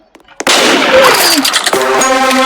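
A gunshot in the Roblox game Murder Mystery 2 cracks loudly after a brief quiet moment, followed by a ringing, tonal tail of game effects and a faint voice.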